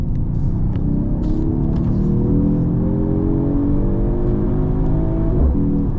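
A Mercedes-AMG GT43 pulls hard from the cabin with a loud, steady engine roar that rises in pitch through the gears, with a brief shift break near the end.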